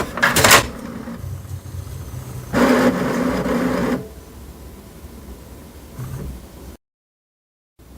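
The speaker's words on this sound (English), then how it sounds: "Once you open the carriage access door, the carriage will come to the center." An HP DeskJet 2855e printer carriage sliding to the center after the access door opens: a short clatter, then a steady mechanical whir for over a second, followed by a soft motor hum and a brief rattle.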